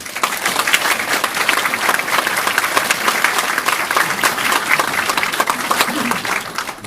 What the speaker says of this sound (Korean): 다시 한번 감사의 박수 보내드립니다